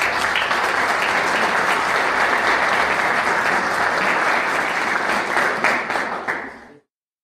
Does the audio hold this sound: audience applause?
yes